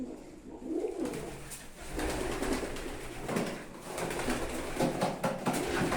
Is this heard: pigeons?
yes